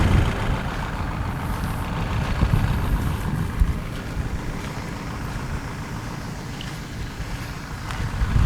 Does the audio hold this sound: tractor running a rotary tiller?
yes